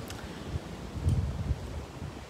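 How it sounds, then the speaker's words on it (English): Strong wind gusting outdoors, a steady low rumble of buffeting against the microphone that swells in gusts around the middle, with no voices. "It's really windy."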